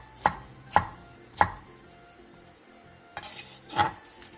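A knife julienning one yellow and one red bell pepper into 0.3 cm strips on a cutting board: crisp chops, three evenly spaced, then a brief pause and a fourth cut, close and clear with no talking.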